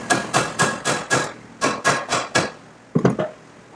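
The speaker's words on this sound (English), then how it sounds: "Then I also had to bend these tabs up just a little bit." Metal tabs on a fabricated engine mount for a Toyota KP61 Starlet 3SGTE swap are hammered to bend them, with about eleven sharp, close strikes in quick rhythmic groups and short pauses between.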